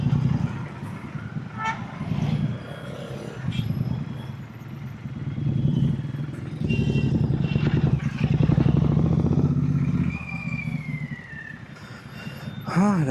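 A Suzuki V-Strom SX250 motorcycle rides past in traffic on a hot city road. A rising and fading engine note sits among horns and other vehicles.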